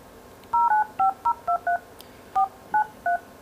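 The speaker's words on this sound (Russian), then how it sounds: "Вот я попробую набрать номер." A smartphone car radio keypad sends a quick sequence of dialing tones as a number is entered, about ten short clean beeps in an uneven rhythm, fairly quiet over faint background hiss.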